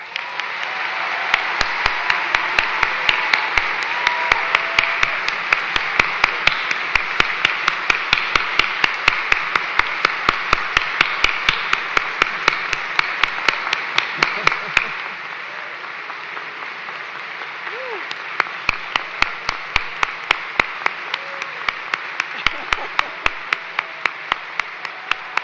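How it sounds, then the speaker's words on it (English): Sustained audience applause at a college commencement ceremony, dense steady clapping from a large crowd that continues evenly throughout, easing slightly partway, with no talk over it. "Please join me in giving President Bergman and Dr. Tom Bergman a round of applause."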